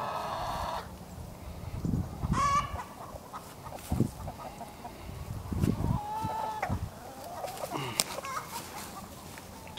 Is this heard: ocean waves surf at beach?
no